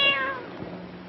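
A single short cat meow, close and clear, falling in pitch and trailing off within about a second.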